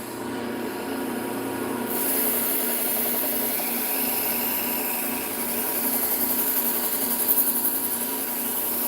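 A ceramic coated knife is sharpened with repeated rhythmic rasping strokes against an abrasive, close and moderately loud, with no voices.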